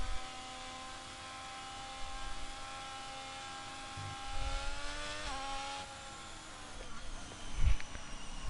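Race cars lap the Hungary circuit in a racing video game, their engines a steady droning whine that shifts pitch as they pass, with a few low thumps rising near the end, fairly quiet overall.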